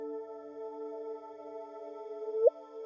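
Gravitational wave signal from two merging black holes rendered as sound: a steady low tonal hum that ends in a quick rising chirp, faint and alone.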